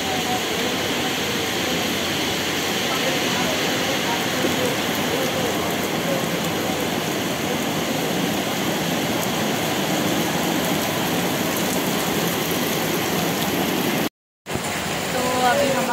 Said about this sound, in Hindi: बहुत बारिश हो रही है, बहुत बारिश।